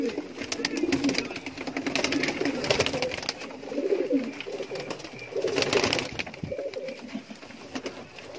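Pigeons coo in low, throaty repeated calls amid a busy, noisy background with faint voices and rustling nearby.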